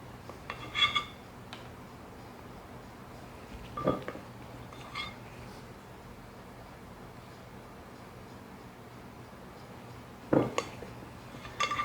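A spoon drops dollops of pecan, coconut and chocolate chip topping onto a chocolate cake, giving a few sparse clinks and taps against the dish, quiet over a faint background hum, with no talking.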